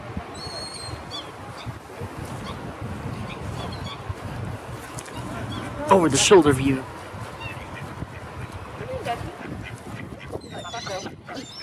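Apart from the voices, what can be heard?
ducks quacking at a lake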